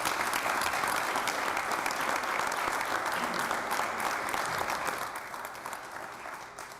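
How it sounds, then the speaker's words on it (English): Sustained applause from people at a county board meeting honoring a Division I state softball championship team, a dense, even clapping that holds steady for about five seconds and then eases slightly. "How about a round of applause for that?"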